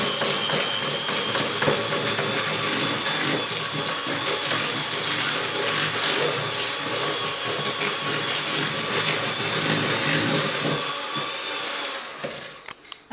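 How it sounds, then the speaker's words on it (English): An electric whisk beating egg yolk batter for honey biscuits, a loud continuous close motor whir with a busy rattle of beaters in the bowl, cutting off at the end. "another quick whisk"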